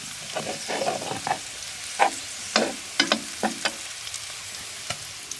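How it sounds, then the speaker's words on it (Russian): Potatoes frying in a pan on a stove inside a camping tent, soft sizzling beneath a series of sharp clicks and scrapes of stirring, quiet and close. "Картошка жарится, котелок еще поставил, чтобы кипяток согреть."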